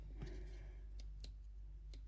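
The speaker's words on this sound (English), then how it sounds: "So you can hear that clicking there." A few quiet, sharp clicks of 3D pen buttons spaced irregularly over a low steady hum, close by and faint.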